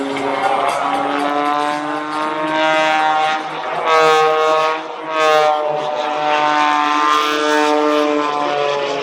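A Blue Angels jet performs airshow maneuvers at an Arctic Thunder airshow, its loud roaring engine swelling and fading as it passes, with a faint announcer voice underneath.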